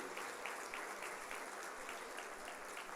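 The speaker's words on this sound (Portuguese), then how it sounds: "Você pode dar uma salva de palmas para Ele?" Church congregation applauding in praise during a sermon, a steady dense wash of many hands clapping that fills the whole stretch at an even level, no voices standing out.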